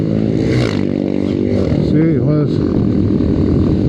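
A motorcycle rider wheelies nearby on the back wheel, the engine droning and revving with rising and falling pitch under steady wind rush, while a rider talks over it.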